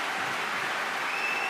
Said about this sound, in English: It's a fabulous response, isn't it, from the crowd?